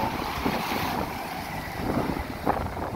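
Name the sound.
strong wind by the rough sea in Palermo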